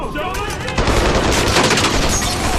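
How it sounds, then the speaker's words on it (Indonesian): Gunfire in a film shootout scene: a dense, continuous barrage of rapid shots and bursts, loud and close, building in intensity after a brief opening with no break in the firing. "Alhasil baku tembak pun tidak dapat dihindari"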